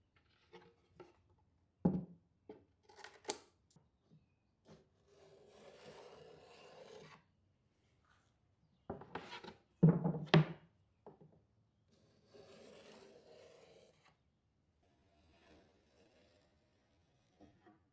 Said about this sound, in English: I just use scissors and a specialized blade trimmer. This just runs along the side and it's meant for cutting edge banding off